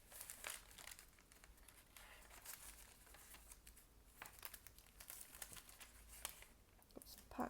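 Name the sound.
rummaging through pattern paper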